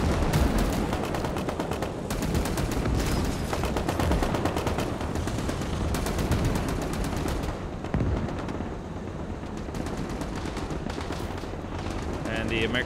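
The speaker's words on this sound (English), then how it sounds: "They're putting a lot of 50 cal fire on it now, though, from several angles." Dense, continuous .50 cal machine gun fire pours down in the WWII video game Gates of Hell, rapid overlapping bursts from several guns with heavy booming impacts, loud and unbroken throughout.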